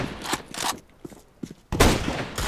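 Gunfire in a video game arrives in loud bursts of rapid shots, broken by quieter gaps with a few scattered footstep-like taps, and no talking over it.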